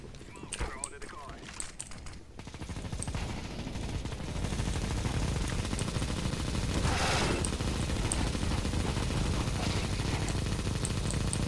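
Rapid bursts of Negev machine gun fire in the video game CS:GO, a dense sustained rattle that builds after a quieter start and runs on steadily, with players talking over it.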